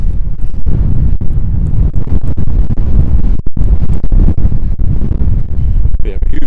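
Heavy wind buffets the microphone during an April walk in Regina, producing a loud, steady low roar with gusting surges throughout. A voice is faintly present beneath the noise.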